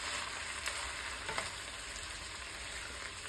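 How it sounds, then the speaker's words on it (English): Noodles with carrots, butter and paste being stirred and folded in a hot pan, giving a continuous even sizzle with a couple of faint utensil scrapes, fairly quiet and steady. "we're going to keep stirring and folding and separating, and we're going to kind of distribute the noodles throughout"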